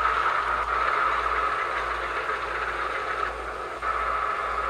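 Steady, continuous engine drone of a T-34 tank in a tank simulator game, a loud uniform rumble with a slight dip near the end and no talking.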